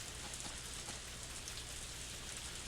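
Rain falls steadily in the video game Harvest Moon A Wonderful Life, a faint, even hiss of drops with no breaks, heard alone without voices.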